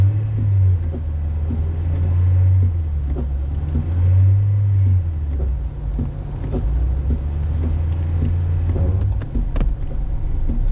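A manual car idles and revs steadily as it pulls away on a hill start, a low engine drone rising and falling in waves for about ten seconds without talk.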